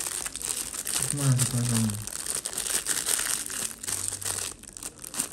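Plastic packaging around a BM-800 microphone crinkles and rustles in short close bursts as it is unwrapped, while someone speaks French over it.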